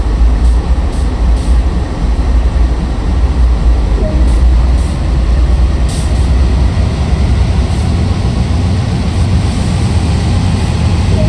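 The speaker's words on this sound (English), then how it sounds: "This train is ready to go. Pull the indicated handle all the way back to get moving." In Train Sim World 2, a heavy freight locomotive on Sand Patch Grade starts moving with a loud, constant low diesel rumble and mechanical drone, and faint clanks and hisses come through now and then.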